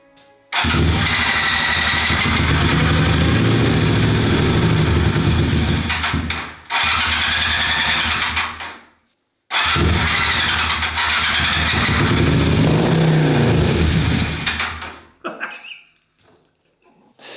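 A Honda CB250 motorcycle, abandoned and parked since 1986, cranks and fires up, its engine running loud and close in long bursts that cut out twice before catching again, then fading to stop near the end.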